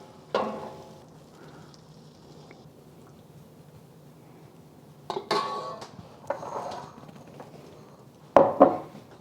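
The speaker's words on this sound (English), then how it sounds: "So I'm gonna spoon this into our bowl." Sauce spooned from a pan into a bowl for gochujang chicken, scattered metallic scrapes and clinks of spoon against cookware between quiet gaps, with a louder cluster of knocks at the end.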